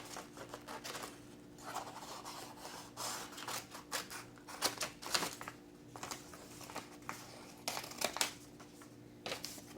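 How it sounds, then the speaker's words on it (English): Scissors trimming excess paper from a paper wolf mask, a series of close, quiet snips and papery rustles in irregular bursts, with no talking. "So I am going to trim off this excess. And then trim it on the inside as well."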